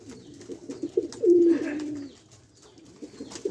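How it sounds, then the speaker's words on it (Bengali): Racing pigeons back from a 10 km race coo nearby, with one loud, drawn-out coo standing out among softer soft coos and rustles. "একটা 5টা 6টা কবুতর আসছে।"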